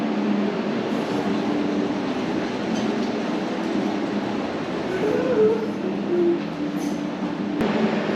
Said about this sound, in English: I made it on the train, and soon we'll be headed into Boston.